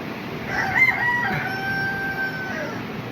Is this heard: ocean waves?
no